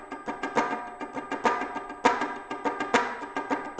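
Rhythmic muted-string funk guitar strumming, dampened percussive chugs in a steady pattern with occasional accented hits, close and clear with no voices.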